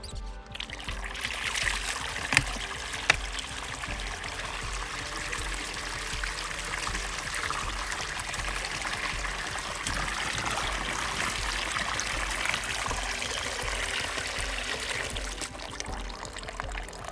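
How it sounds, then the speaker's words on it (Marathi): Water gushing steadily from a tap on a farm, a loud, continuous broadband rush that holds for the whole stretch with a couple of faint knocks early on and no talk. "पाण्याचा इथे एक नळ दिलेला आहे."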